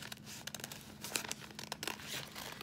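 Paper scraps from a fall tree collage craft crinkle and rustle softly as they are slid across a tabletop, a string of light, close scratchy crackles with brief crisp peaks.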